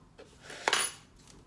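Metal measuring spoons clinking while salt is measured out for cornbread, a couple of light, close, bright taps with one sharper ring in the middle, soft and brief.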